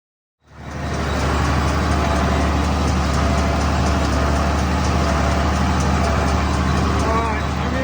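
A Ford 8000 tractor engine comes up quickly from silence into a loud, steady diesel drone, holding an even throbbing note close by for the rest of the clip.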